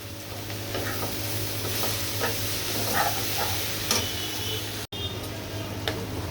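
Masala being sautéed and stirred in a pan for an ilish fish and bitter gourd dish, a steady close sizzle with scattered scraping stir strokes and a brief gap near the end.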